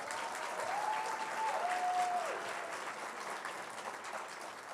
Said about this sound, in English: please give your faculty and staff a round of applause.